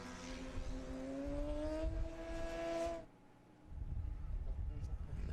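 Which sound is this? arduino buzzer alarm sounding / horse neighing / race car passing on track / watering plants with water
race car passing on track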